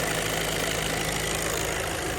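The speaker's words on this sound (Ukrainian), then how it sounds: "Так, працює він ідеально, жодних тут нарікань чи запотівань по двигуну не виявлено." A 2020 Volkswagen Passat B8 with a 2.0-litre 110 kW diesel engine idles steadily. The sound is a dense, even clatter and hum, close and constant throughout, with no one speaking.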